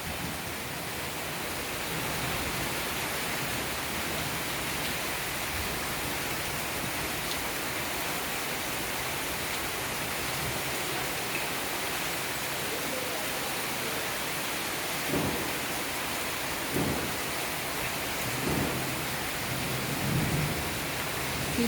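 Heavy rain pours steadily outside a balcony, a dense continuous hiss that fills the whole stretch, with a few low thunder rumbles near the end.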